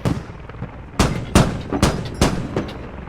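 Gunfire in the military shooter game Squad: several loud, sharp shots spaced irregularly over a rumbling battlefield background, with no voices over them.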